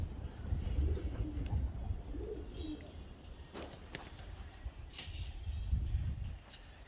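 Pigeons flying overhead and calling, with faint low coos rising and falling and a few brief flutters and knocks. The birds sound distant and quiet over outdoor background noise.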